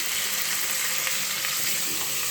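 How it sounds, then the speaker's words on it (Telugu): Cauliflower, carrot and capsicum fry in a pan with ginger-garlic paste while being stirred, giving a loud, constant sizzle with faint utensil scrapes and no pauses. "మా అమ్మ కలబెట్టుంది"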